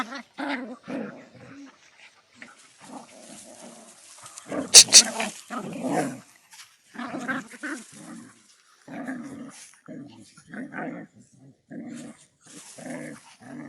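Dogs in a pack roughhouse and play, with repeated growls, snarls and whimpers coming in bursts up close, a sharp louder yelp near the middle, and occasional low human talk mixed in.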